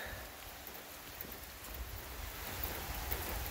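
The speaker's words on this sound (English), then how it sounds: "It's really starting to come down with the rain now." Steady rain hisses down as a soft, even wash of noise, with occasional drops pattering on a surface, heard around a 1993 Jeep Wrangler YJ; no voices.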